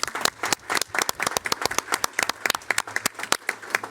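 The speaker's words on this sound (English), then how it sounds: "And we got to do one more applause" Applause at a school board meeting: a small audience claps at close range in a brisk, uneven patter of distinct hand claps lasting a few seconds, with no talk over it.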